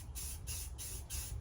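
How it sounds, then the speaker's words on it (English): Spray paint hisses onto a model F-18 jet in bursts of about a quarter second each, four quick sprays with short pauses between them, close and fairly soft. "Spray into the wind when you're outside."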